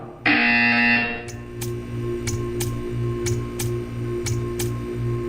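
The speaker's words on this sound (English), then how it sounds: "You will hear a buzzer. When you hear the buzzer, stare at the art." A loud electronic buzzer from the video game Portal 2 drones for about a second, then steady rhythmic ticking pulses repeat evenly over a low hum.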